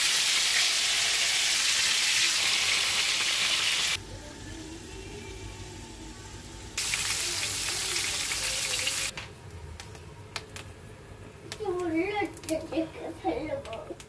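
Chicken pieces fry in hot oil with a loud, steady sizzle that cuts in and out in sections, while a person talks over the quieter stretches near the end.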